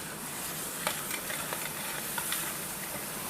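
Carrots and vegetables sautéing in a pan for pancit, a steady close sizzle and hiss with a few faint scraping stirs, no talking.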